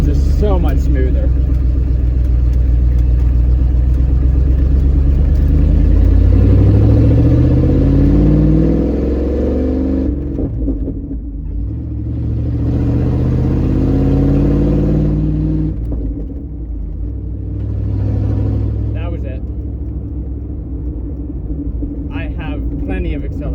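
A 1993 Ford F-150 with a swapped engine revs and pulls away, a loud, close rumbling drone that rises and falls through several surges while people talk over it.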